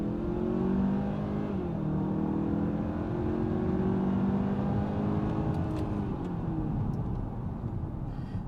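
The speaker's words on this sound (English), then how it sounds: "So we're gonna go ahead and do a 0 to 60 run here." A 2025 Hyundai Santa Fe XRT accelerates hard from a standstill to 60 mph, its engine note rising steadily in pitch, loud and continuous from inside the cabin for several seconds.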